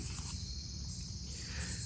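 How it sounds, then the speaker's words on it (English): Crickets chirp steadily at a campground at dusk, a dense, continuous high-pitched trill that holds for the whole stretch with no talk over it, set against a low rumble of background noise. "You can hear the crickets and the nightlife coming out."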